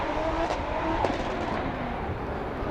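Toyota 86 drift car engine at Formula Drift Long Beach qualifying, a loud sustained roar with shifting revs and brief sharp peaks, steady and unbroken with no speech.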